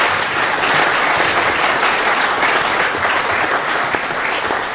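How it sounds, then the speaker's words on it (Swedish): A hall audience at a church panel discussion on politics gives warm, loud, dense applause that holds steady throughout without pause. "en varm applåd till denna fantastiska panel"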